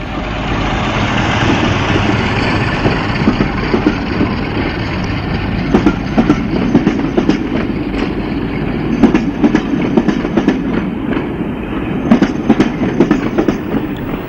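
A Class 44/45/46 Peak diesel locomotive restarts the 08:05 Edinburgh to Newcastle from Berwick in 1974, its engine roaring steadily while wheels beat out a growing rhythmic clickety-clack close by.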